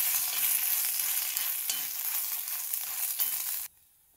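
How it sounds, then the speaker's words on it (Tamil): Dried red chillies dry-roasting in a pan with a little salt give a steady crackling sizzle with faint stirring scrapes, close and even throughout, then cut off abruptly near the end. "மிளகா வத்தல் வறுக்கும்போது கொஞ்சமாக உப்பு சேர்த்துக்கிட்டோன்னா அது இந்த கமராது ரொம்ப புகையாது."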